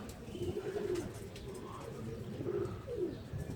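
A sick, fallen pigeon cooing nearby, a few soft low throaty coos repeating over a muffled background rumble.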